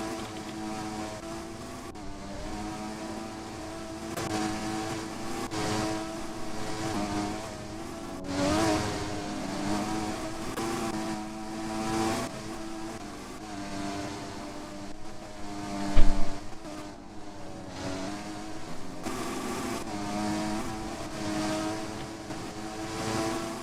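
Formula racing cars from a racing sim league run around a track's final corner, including a Ferrari, with a steady layered engine whine and revving that swells and fades as cars pass, plus one brief sharp bump mid-way.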